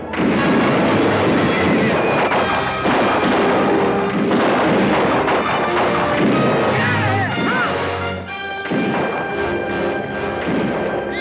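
A volley of Apache rifles fired in a video game, a dense, loud roar of overlapping shots and blasts with no pauses, heard up close.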